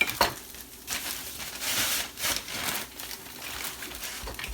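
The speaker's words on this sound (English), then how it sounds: "While the chickpeas are toasting" Chickpeas toast in a hot pan with a steady, close sizzle, broken by occasional scraping and stirring bursts, and no voices.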